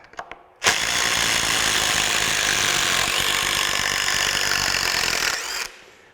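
A Craftsman V20 20-volt brushless quarter-inch impact driver runs in reverse, backing screws out of well-used wood: a loud, steady hammering whir that starts abruptly and holds for about five seconds before cutting off.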